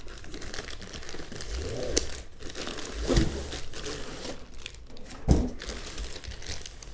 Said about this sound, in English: So let me get this plastic bag cut up.